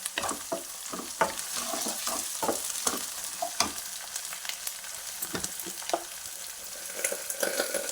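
Curry leaf sprigs frying in hot oil for a capsicum curry, a steady close sizzle with crackling pops and stirring clicks that runs throughout with no talk.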